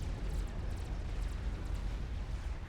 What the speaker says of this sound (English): I thought I heard a regular nuke explosion, but I could be wrong